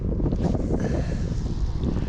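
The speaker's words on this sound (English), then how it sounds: "it's gone horrible and dark and windy on me now" Steady wind gusts buffet the microphone outdoors by the water on a dark, blustery day, a continuous low roar with no pauses.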